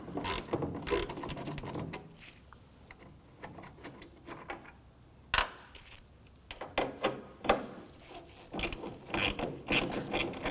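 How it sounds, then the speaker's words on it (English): A 1/4 inch ratchet with an 8mm socket clicks in repeated bursts while loosening screws on a 2015-2020 Ford F-150 tail light, close, crisp pawl ticks separated by brief pauses. "I'm going to use my 1/4" ratchet with my 8mm socket. I'm going to loosen and remove these screws."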